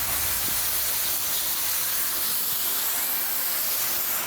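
All Clean cleaner spraying onto the wheels of a rare Chevy SS, a steady close hiss of fine mist that runs unbroken and fairly loud throughout.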